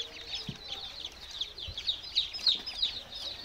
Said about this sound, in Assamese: এতিয়া ও হো পোৱালি কিটা ইমান কানিছে